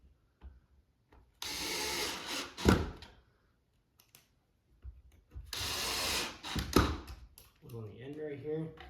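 Power drill driving screws into a wooden farmhouse bench, two bursts of whirring a few seconds apart with knocks and handling clatter between, and a brief voice at the end.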